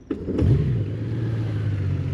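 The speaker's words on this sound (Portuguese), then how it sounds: "se vocês puserem a moto a trabalhar" A Honda Goldwing motorcycle with a DCT gearbox idles in neutral on its center stand, giving a steady, close, low engine hum with a brief start-up rise and no talk.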